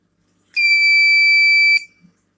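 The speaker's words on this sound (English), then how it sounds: "the red light and the buzzer will buzz for around 2 seconds or less" A loud, steady electronic buzzer in a powered circuit sounds for just over a second, a high piercing tone that cuts off abruptly, alone in a quiet room.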